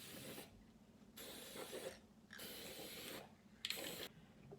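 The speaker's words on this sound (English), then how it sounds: "I'm gonna try to spray the inside too" Aerosol spray paint hissing inside a recycled milk-carton bird feeder for a school craft project, several quiet bursts of about a second each separated by short pauses, close but faint.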